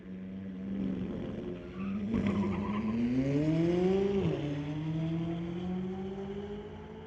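McLaren supercar launching down a street-legal drag strip at Mission Raceway Park, its engine climbing in pitch through the gears with a sharp shift, loud and fairly close, then fading as it pulls away.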